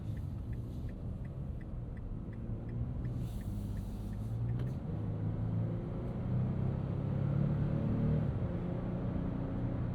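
A 2025 Nissan Frontier Pro-4X V6 midsize truck cruising on the highway, heard from inside the cab as a steady low engine and road drone that swells slightly, with a brief rhythmic ticking early on.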